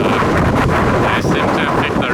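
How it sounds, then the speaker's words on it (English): Strong gusting wind blasts across Taura Station, a seaside train platform in Japan beside the ocean, as loud continuous microphone buffeting that swells and dips throughout. "I don't know if you can hear the wind"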